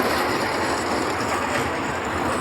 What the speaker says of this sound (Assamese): এতিয়া স্পীড লৈ গৈ আছে ট্ৰেইনখন